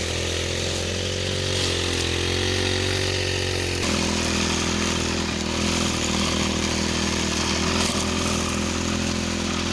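Petrol brush cutter with a power cutter head slicing through vines right at ground level; the engine drones loud and continuous throughout, with its pitch shifting as the head bites into the growth.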